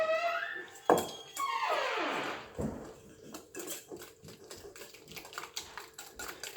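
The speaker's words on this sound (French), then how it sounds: "Un peu de sucre et on va mélanger tout ça au fouet." Whisk clattering rapidly against a bowl while fromage blanc, mascarpone and sugar are beaten together, a busy run of close, sharp ticking strokes with a louder scrape early on.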